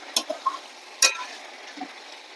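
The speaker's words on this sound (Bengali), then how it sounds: "তাই ভালো করে কষিয়ে নেব।" Chicken is stir-fried with chili and black pepper powder, with a low, faint sizzle under a few sharp scrapes and clinks of a spatula against the pan.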